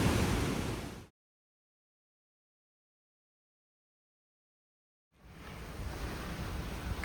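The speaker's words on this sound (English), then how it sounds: "I just wanted you to hear that rush of water" Rushing water at Barron Falls waterfall roars as a steady broadband wash, breaking off into a long stretch of silence before the rush returns just as loud.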